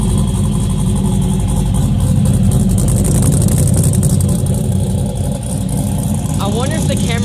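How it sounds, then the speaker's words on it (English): A car engine with a re-installed Alky exhaust revs loudly and continuously up close, a heavy droning roar that holds steady throughout. "I wonder if the camera even like picked up the revs."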